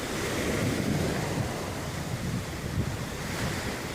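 Surf on an eroding beach in Grenada, breaking waves rolling in as a steady, loud roar with gusty wind noise across the microphone and no voices.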